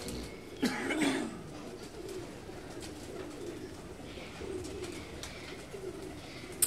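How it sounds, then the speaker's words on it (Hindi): A Rampuri pigeon coos softly in low, throaty bursts, faint against quiet room noise, with a brief rustle near the start. "ये भी रामपुरी कबूतर है"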